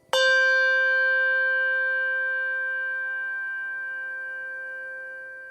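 A single Schulmerich handbell with tang struck once, ringing with a bright clear tone and a long smooth sustain that slowly fades, heard alone.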